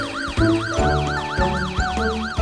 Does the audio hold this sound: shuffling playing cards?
no